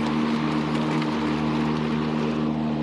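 Blades of a Toro 60V Flex Force battery-powered electric mower spin underneath with a steady, low, even whir and hum, close and constant throughout with no voices.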